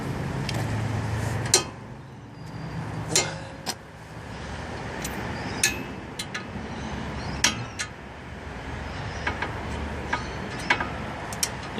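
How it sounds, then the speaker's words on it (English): A torque wrench clicks as front brake caliper bolts on a VW MK6 Golf GTI reach 50 foot-pounds, sharp metallic clicks scattered irregularly over steady background noise and faint ratcheting. "The torque wrench is going off there at 50 foot-pounds"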